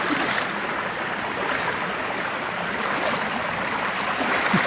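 Water of the Riacho do Lagedo stream and waterfall rushes in a loud, constant broadband roar, near and unbroken, with no voices.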